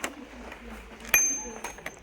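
A small bicycle bell for kids' bikes rings once with a bright, sharp metallic ding, close and clear, amid soft handling noises in a quiet shop.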